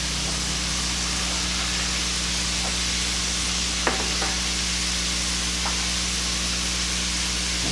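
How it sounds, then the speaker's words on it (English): Spinach going into a pan of softened onions and cooked garlic makes a steady, dense sizzle and hiss, close and unbroken, with a few faint clicks of a utensil and no speech. "the onions have softened and the garlic is cooked. And now Bob is going to add the spinach."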